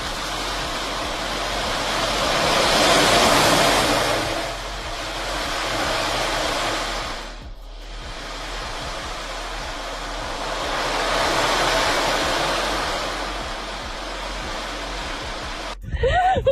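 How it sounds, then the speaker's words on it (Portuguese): An ocean drum, a tilted disc with thousands of small beads rolling inside, makes a soft, steady wave-like wash that swells and recedes twice, nearly falling silent between the surges. "Ao inclinar o disco lentamente, milhares de pequenas esferas deslizam para recriar com perfeição o som relaxante das ondas"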